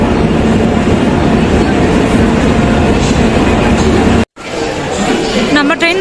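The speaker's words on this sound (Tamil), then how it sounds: "நம்ம ட்ரெயின் வந்துருச்சு 6th பிளாட்ஃபார்முக்கு." The 12291 weekly superfast express train rumbles loudly into platform 6 at Yesvantpur station at night, alongside a busy platform with a crowd chattering, followed by a brief cut and then continued rolling noise with voices.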